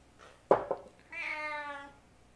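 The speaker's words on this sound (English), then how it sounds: "Cat." A house cat gives a sharp short cry and then one long, drawn-out tonal meow, close and clear against a quiet kitchen background.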